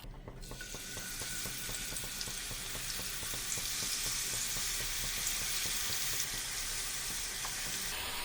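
Masala-coated chicken sizzles and crackles steadily in hot coconut oil, a loud frying hiss that swells right after the pieces go in and holds for several seconds with no talking.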